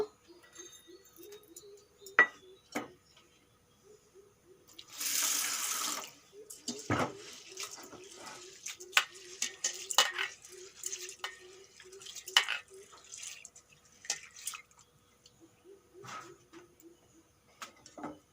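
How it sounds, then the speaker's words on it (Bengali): Sago pearls are being washed by hand in a bowl of water, with soft sloshing, swirling and small splashes. There is a brief louder burst of pouring or running water partway through. The sounds are close and come without speech. "সাবুদানাগুলো এখন ধুয়ে নেব"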